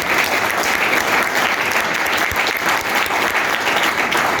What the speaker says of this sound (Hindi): एक बार जोरदार तालियां पंडित जी के लिए चाहिए, जोरदार तालियां